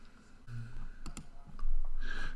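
A few sharp software mouse clicks, close and dry, against a quiet background with a short burst of hiss at the end.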